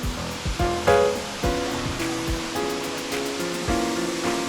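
Rushing water at Palaruvi waterfall, a loud, continuous broadband roar with splashing surges, heard close and alone without talk.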